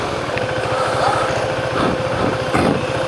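A small motorcycle engine runs steadily at close range with a fast, even putter that holds for the whole stretch, while faint voices talk in the background.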